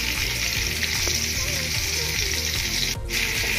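Chili, onion and garlic frying in hot oil in a pan, cooking for a papaya dish with koi and small fish: a loud, steady sizzle throughout with faint tonal hum underneath, no talking.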